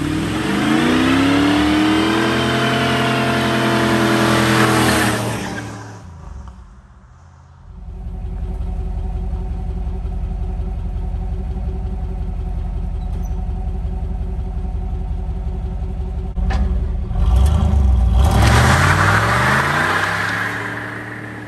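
A tired Chevrolet Camaro IROC-Z with a 350 V8 doing a burnout, the engine revving hard in loud sweeping bursts, dropping briefly, then holding a sustained high drone before surging again.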